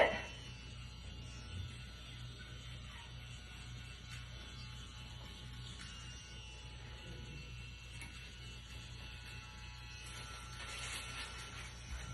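A tattoo-style needle machine runs steadily during a hair treatment, a low, even mechanical buzz with a faint rattling texture that holds close and moderately quiet for the whole stretch, with no talk over it.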